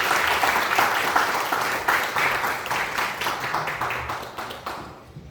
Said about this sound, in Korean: 박수로 한번 맞아주시죠